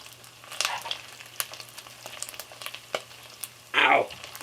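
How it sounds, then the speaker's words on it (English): Tripe fries in hot oil, crackling and popping steadily up close, with sharp spatters scattered through and a louder hissing burst near the end. "We gotta fry them up real good."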